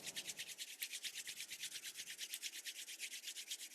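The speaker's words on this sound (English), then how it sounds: "Rub the palms together." Two palms rubbing briskly together, a rapid, even back-and-forth swishing, soft but close, with no talking.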